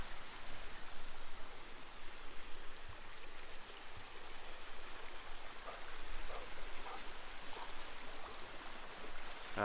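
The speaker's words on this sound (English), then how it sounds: "you're close to the river" A river flowing nearby in spring mountain country with snow still up high, a steady broadband rush of moving water heard throughout at a moderate distance, with no talk.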